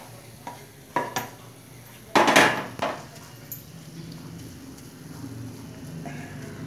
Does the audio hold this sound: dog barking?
no